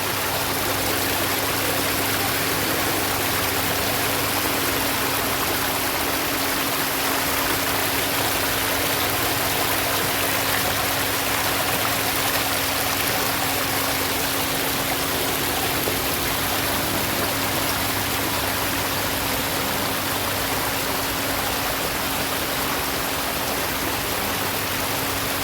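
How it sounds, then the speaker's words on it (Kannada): Flowing water from a stream beside a wedding hall makes a steady, loud rushing wash that continues unbroken throughout, with no voices. "ಇಲ್ಲಿ ನೀರಿನ ಜಳ ತುಂಬ ಚೆನ್ನಾಗಿ ಕೇಳಿಸುತ್ತೆ"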